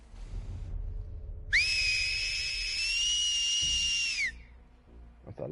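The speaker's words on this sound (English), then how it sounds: "That's a loud ass whistle." A single loud, sustained high whistle in The Last of Us Part II rises sharply, holds steady for nearly three seconds and drops off, over a low rumble of background noise.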